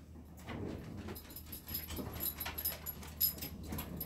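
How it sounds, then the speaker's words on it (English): A beagle mix dog whimpers softly indoors, faint, thin whines and small yips repeating over low room noise. "our roommate's dog is like a beagle mix"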